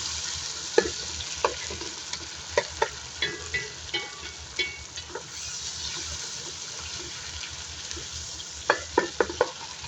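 Onion frying in a pan with fish stew spices, a steady soft sizzle under occasional light clicks and scrapes of stirring, close and moderate, no talking.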